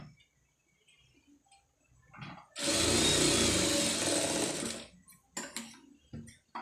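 A sewing machine runs in one loud, steady burst of about two and a half seconds while stitching a neck design on a garment, with quieter handling sounds before and after.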